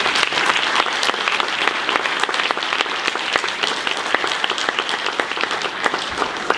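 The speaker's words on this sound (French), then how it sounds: "Je vous demande d'applaudir Monsieur Mathieu Barter." An audience at a social film festival gives sustained, dense applause for an introduced guest, many hands clapping loudly and evenly throughout with occasional sharper claps.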